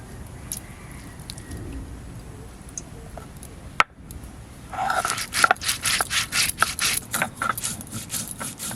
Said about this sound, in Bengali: এদিকে আমি মশলা বাটতে থাকি, জিরে ধনে বাটবো